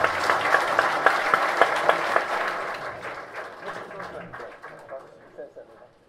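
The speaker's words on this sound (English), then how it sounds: "we all should give them a large applause" Audience applause at a business forum plenary session, a burst of clapping that starts loud and full, then thins and fades as fewer hands keep going.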